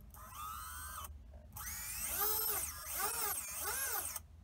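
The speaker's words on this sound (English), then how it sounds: "Throttle up." Small brushless motors on a 140mm Skystars X140 micro FPV racing quadcopter whine as the throttle is raised, with a brief pause before rising, warbling pitch sweeps in repeated surges, close and fairly loud with no talk.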